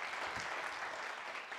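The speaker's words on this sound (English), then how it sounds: "a round of applause" Applause from an audience at a panel event, a short, soft, steady patter of clapping heard at a distance.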